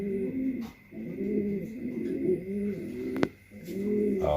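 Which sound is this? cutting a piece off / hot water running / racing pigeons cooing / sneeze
racing pigeons cooing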